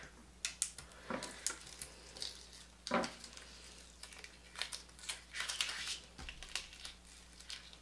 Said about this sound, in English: now we're gonna go ahead and weed the backing here, all this back part